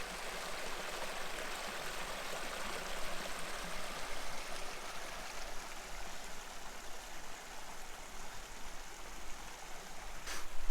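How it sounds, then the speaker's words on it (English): An Australian mountain creek flows in a steady, continuous wash of running water that holds even and fairly close throughout, with no voices. "How beautiful is this stretch of creek?"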